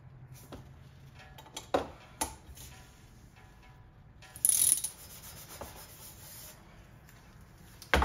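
A bolt is tightened on a Holset HE341 turbo on a BMW E28: faint, scattered metallic clicks and ratchet-like ticks, with a few sharper clanks of tool against metal, close by and without speech.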